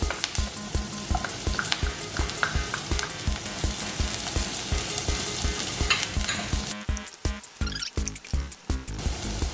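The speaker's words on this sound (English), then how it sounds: "As the onion turns translucent, we put in our garlic." Garlic goes into onions frying in a pan, giving a continuous loud hiss and sizzle with quick rhythmic scraping stirs throughout, close and without talk.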